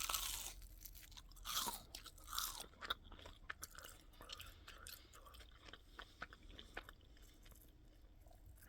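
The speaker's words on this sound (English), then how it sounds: "they're definitely crunchy on the outside. So I'll take a bite without the sauce" Crunchy Burger King churros being bitten and chewed close to the mic, several crisp crunches followed by softer chewing, faint and without talk.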